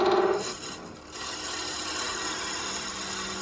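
A continuous scraping, rasping sound of a lathe tool cutting into spinning maple, fairly close and steady, easing briefly before carrying on evenly.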